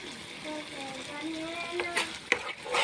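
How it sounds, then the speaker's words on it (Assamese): Tomatoes frying in oil in a pan for shukto, a soft continuous sizzle with faint tonal squeaks and a few stirring clatters toward the end. "তাৰপিছত বিলাহীখিনি জ্বলালৈকে মানে ভাজি থাকিম"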